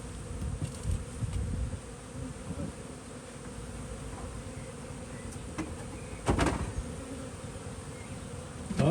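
Honeybees buzz around beehive frames while a hive is installed, a continuous close swarm hum with individual bees zipping past the microphone and a few soft knocks and scrapes.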